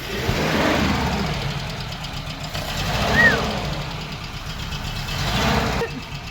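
A small Kei truck engine idles steadily during a revival project, a continuous mid-pitched rumble with slight exhaust smoke and a possible small leak, heard close with people talking over it.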